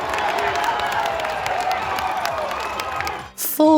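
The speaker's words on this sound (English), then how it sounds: "easily the most enthusiastic crowd" A large, enthusiastic convention audience at PAX East 2023 cheers and applauds in a dense, steady roar that fills the hall, then drops away before a brief louder burst at the end.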